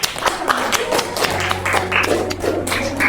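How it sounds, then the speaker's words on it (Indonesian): Classroom applause from pupils, a short round of uneven clapping and tapping with a few sharp individual claps, fairly close and loud, alongside a low steady hum. "Tepuk tangan dulu untuk kelompok apa?"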